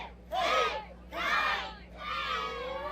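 A crowd at a Slam U Superhero Saturday wrestling show chants a count in unison, three loud drawn-out shouts in a steady rhythm with brief lulls between them.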